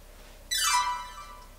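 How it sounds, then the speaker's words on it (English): A single bright synth tone sweeps rapidly downward in pitch, lasting under a second, dry and fairly faint after a moment of quiet. "it's just a very simple synth that just is very short."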